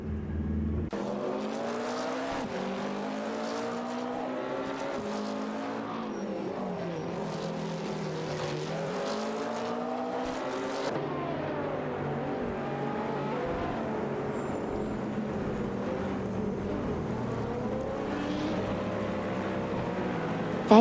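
Race cars in a racing game, including a BMW V12 LMR and a Cadillac Northstar LMP, roar continuously as engines rise and fall through gear changes, with overlapping cars battling closely and no talk over them.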